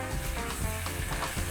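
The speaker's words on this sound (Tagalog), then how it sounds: "gigisa lang natin ng konti si shrimp" Shrimp sautéing in a small pan for garlic butter shrimp, giving a steady, close sizzle with faint stirring scrapes throughout.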